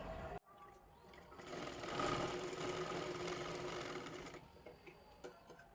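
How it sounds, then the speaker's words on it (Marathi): A sewing machine stitching a blouse neckline runs in a steady, rapid whirring burst of about three seconds, close and fairly quiet, with brief quieter handling before and after. "सर्वात आधी आपल्याला ती शिलाई करून घ्यायची आहे"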